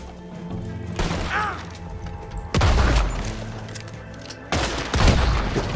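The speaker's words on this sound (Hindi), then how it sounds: "शॉटगन से मारने का मजा ही कुछ और है गाइस" Shotgun blasts in a video game (Arthur), three loud booming shots spaced a second or two apart, each with a sharp attack and a rumbling tail over a quieter game background.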